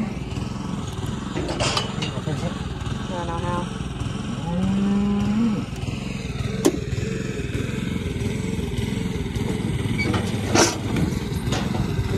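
A pregnant cow in a pasture lets out a low moo amid a steady outdoor rumble, with occasional clatter and faint background noise.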